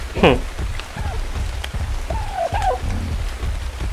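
Rain pattering steadily in Ark Survival, the dinosaur island game, with a few bird-like calls and chirps rising over the wet background noise.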